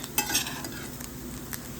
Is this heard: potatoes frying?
yes